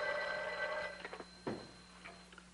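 An old telephone rings on the line, an electric bell trilling in a brief burst before fading into faint room noise, heard from a 1950s crime drama scene.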